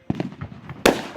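Fourth of July fireworks go off nearby in a quick run of crackling pops, followed by a loud, sharp boom near the end.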